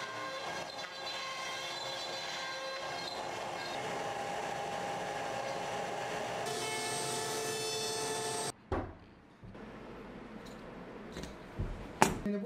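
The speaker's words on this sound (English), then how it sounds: "I have a CNC machine, I'm just gonna kind of plug in these numbers" A CNC machine cuts rounds from wood for yo-yos with a loud, steady whine and sharp tonal harmonics close by. The whine stops abruptly after about eight seconds, and a few knocks and clunks follow.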